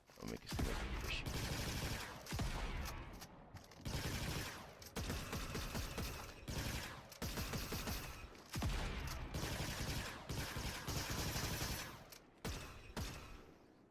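Gunfire in GTA Online: loud, dense bursts of rapid shots come in repeated volleys with short gaps, close and dominant throughout.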